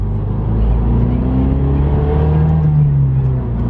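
A MazdaSpeed 3 engine pulling hard under acceleration in third and fourth gear, a loud droning rise in pitch from inside the car that flattens out as boost cuts off around 5,000 RPM, no talking.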